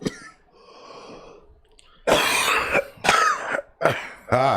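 Several harsh coughs in quick succession, close and loud, after a stretch of quieter breathing and rustle.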